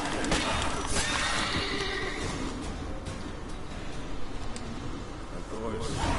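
Roach, a horse in The Witcher III, whinnies and stamps with clip-clopping hooves amid game noise, while someone talks over the action.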